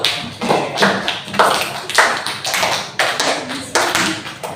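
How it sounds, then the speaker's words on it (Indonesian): A classroom of pupils claps for a classmate named Fatir, a run of sharp, fairly close hand claps in uneven bursts with no voices over them. "tepuk tangan dulu untuk Fatir"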